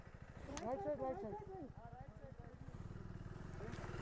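A motorcycle on a Ladakh mountain ride from Leh to Pangong via Khardung La pulls away in first gear, its engine thumping in an even, close rhythm, with a voice speaking over it at first.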